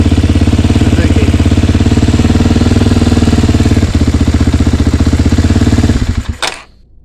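A Suzuki DRZ250 dirt bike with a Mikuni carburetor runs steadily at close range with a fast, even engine pulse, then is shut off near the end and the sound quickly dies away.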